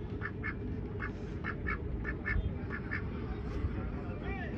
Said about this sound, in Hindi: काफी बड़ी समझदार बतख है।